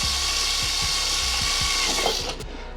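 A power drill bores through the fiberglass wall of a van, whining steadily close up for over two seconds with faint rhythmic knocks before it winds down, and no voices.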